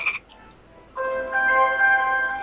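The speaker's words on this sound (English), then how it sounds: "We have a frog." A frog croaks in the Discworld video game as a loud, sustained electronic tone with bright ringing overtones. A short blip comes just before it.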